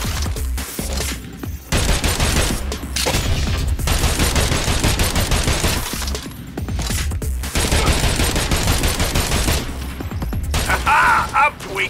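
Weapons fire in Agents of Mayhem, shooting at balls during the Hammersmith fight, loud dense bursts of mechanical gunfire broken by brief pauses across the whole stretch, with clanking and impacts mixed in.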